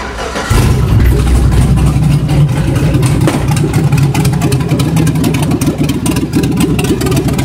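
A Chevrolet C10 truck with an LS engine and Hooker turbo exhaust manifolds fires up and runs loud and close, a deep rumbling idle with raspy exhaust pulses that holds steady for several seconds, with no talking.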